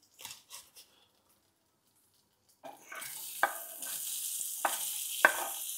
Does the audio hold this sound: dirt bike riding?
no